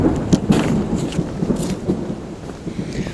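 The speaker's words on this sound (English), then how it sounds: "today it has just been like bands and little cells of storms all day long" Thunder from passing bands and small cells of storms rumbles loudly outdoors beside a garden pond, deep rolling booms with sharper cracks mixed over steady rain hiss, no voices.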